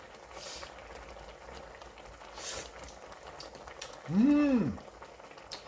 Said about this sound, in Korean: 잘 끓는다.